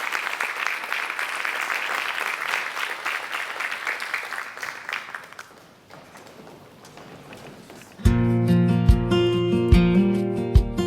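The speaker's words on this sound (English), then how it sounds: "Let's give these kids a round of applause." Audience applause for FFA students at a school banquet, a loud dense burst of clapping that tapers off over about six seconds before country music with singing starts up loudly.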